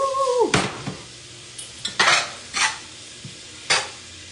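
Onions cooking with salt in a pan, heard as a few separate bursts of scraping and stirring with utensil knocks against the pan, moderately close, with no talking.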